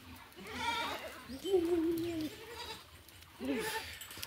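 Goats bleat at a goat farm holding over a hundred animals: two or three wavering, fairly faint calls at a middle distance over a quiet background murmur.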